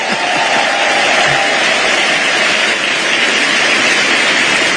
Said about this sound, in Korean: 이쯤 되면 박수 한번 해주셔야죠.